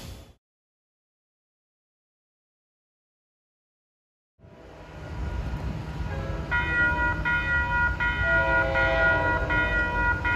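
An MBTA commuter rail train's GM HSP46 locomotive sounds its horn after a few seconds of silence, a loud sustained chord that rises in and holds steady over the rumble of the approaching train.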